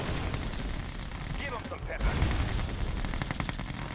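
Battlefield gunfire from Red Alert 2: Yuri's Revenge crackles as loud, rapid bursts and booms, with a short game voice line heard over the shooting.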